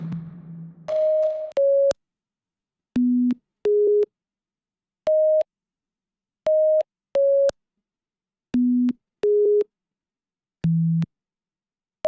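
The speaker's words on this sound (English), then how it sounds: "so it's actually a sine wave" Synthesized sine-wave tones shaped by an FM-modulated valve filter, played alone as a sparse melody of about ten short, clean notes with silent gaps between them.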